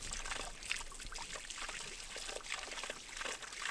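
A thin, steady stream of water trickles from a tap at a hidden wildlife watering trough on a mountain hiking trail, a faint, continuous splashing hiss close by with no voices.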